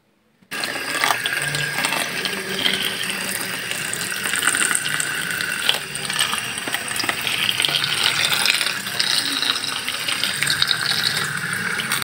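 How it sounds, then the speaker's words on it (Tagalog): Tap water runs steadily into a sink while freshly harvested vegetables and cucumbers are washed, a continuous close splashing flow with no speech. "Hugasan na po natin yung napitas po nating gulay at yung mga bunga rin ng gulay"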